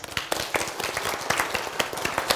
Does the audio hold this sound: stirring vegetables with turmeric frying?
no